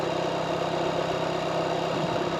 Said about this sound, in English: It's the tyre on rocks.